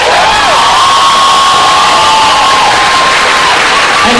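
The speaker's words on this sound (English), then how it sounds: "a big round of applause for David and Represent" Audience at a DragonCon 2015 convention panel with John Barrowman cheering and clapping, a steady, dense wash of crowd noise with whoops running through the whole stretch.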